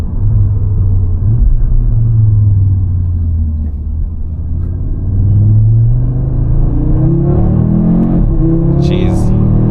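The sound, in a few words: 2025 Audi RS3 exhaust bellowing while short shifting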